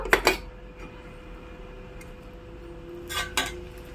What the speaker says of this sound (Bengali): জলটা কমে গেছে, আমি ঢাকা দিয়েছিলাম, এখন ঢাকাটা খুলবো।